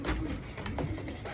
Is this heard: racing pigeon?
yes